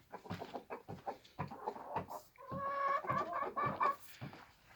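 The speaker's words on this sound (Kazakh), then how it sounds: "Жаңағы тауық қайда? Жұмыртқалайын деп жүрген." A hen about to lay an egg clucks repeatedly in short bursts, fairly close, with a longer run of agitated cackling in the middle; no speech.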